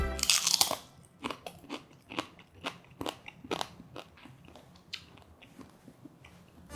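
Fried potato starch chips bitten and chewed up close, a loud crackling bite followed by a series of sharp crunches in uneven rhythm, with no talking.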